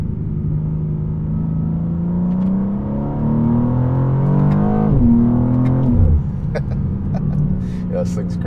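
A BMW M2 CS engine revs and drops through gears, with sharp exhaust pops and crackles scattered over the steady rumble.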